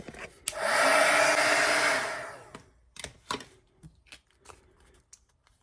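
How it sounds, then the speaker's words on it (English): A heat gun blows steadily for about two seconds, drying ink on a craft card, then cuts off and leaves a few soft handling clicks and paper rustles close by. "just going to dry this off with my heat gun"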